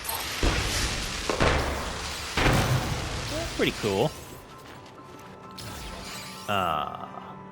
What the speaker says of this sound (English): They got little fireworks that go off.